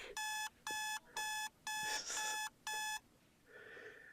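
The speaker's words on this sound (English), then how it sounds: "smack that alarm. We don't need that. Alarms are evil." An alarm clock rings in six loud, evenly spaced electronic bursts of repeated beeping, each about half a second long, then stops, leaving a faint softer tone at the end.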